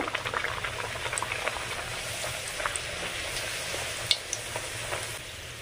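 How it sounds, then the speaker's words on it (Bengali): Spinach luchi deep-fry in oil, a constant bubbling sizzle with scattered crackles and a few sharper pops near the end, close and steady without any voices. "সব লুচিগুলো আমি একইভাবে ভেজে নেব।"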